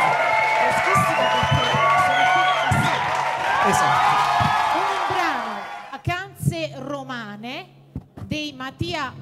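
Loud crowd cheering, whooping and clapping to welcome a singer onto a stage in Ruvo di Puglia, a sustained roar that fades into a host speaking amplified over scattered calls.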